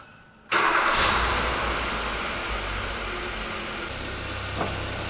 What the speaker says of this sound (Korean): 시동을 한번 켜볼게요